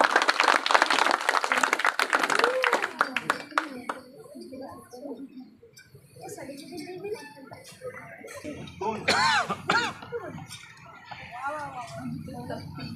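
An audience at a karate medal award ceremony gives a loud burst of clapping that fades after a few seconds, followed by people talking nearby.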